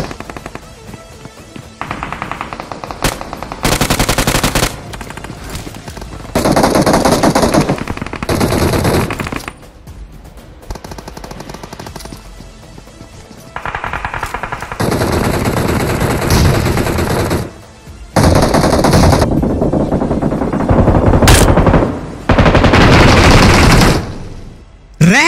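Machine gun fire in the mobile battle royale game BGMI, loud sustained automatic bursts separated by short pauses, close and dominant with no talk over it.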